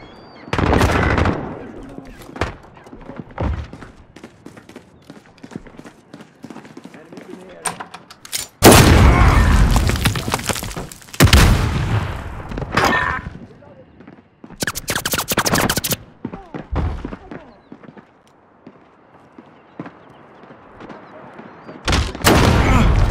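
Bursts of automatic gunfire and explosive booms in Call of Duty Modern Warfare (2019), loud and close, with sharp clusters of shots separated by quieter gaps and occasional game voice callouts.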